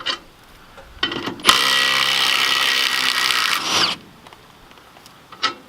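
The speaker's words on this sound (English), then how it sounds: "Then I'll get the impact here with the proper socket and just work them right out." A Milwaukee impact wrench with a socket zips off the lug nuts of a car with a flat tire: a couple of short taps, then one sustained loud hammering whir lasting over two seconds, then brief clicks.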